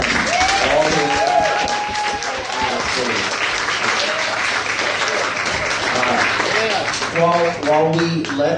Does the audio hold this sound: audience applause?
yes